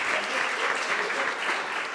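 Sustained audience applause at a community film screening and talk in Sag Harbor, dense steady clapping from a crowd, moderately loud and continuous throughout.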